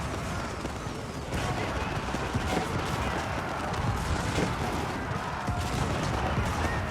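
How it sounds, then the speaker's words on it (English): Medieval bombard cannons firing during a large Age of Empires battle, heavy booms blended into dense, continuous battle noise with clashing units, and a voice talking over the din. "Bombars firing away."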